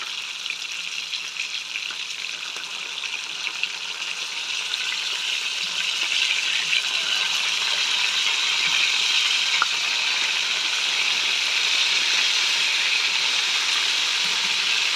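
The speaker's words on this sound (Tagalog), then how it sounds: "At after mga 2 hours, piniprito ko na yung isda." Fish steak marinated in salt, soy sauce and vinegar fries in a pan, giving a steady, dense sizzle that swells slightly louder partway through and holds close and continuous with no voices.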